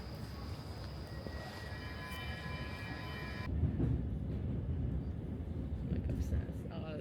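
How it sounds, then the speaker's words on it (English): A Stockholm metro train rumbles through the station, a steady rolling roar with high wheel whine at first, then a louder rumble as it passes close, with people talking over it. "this is a metro station."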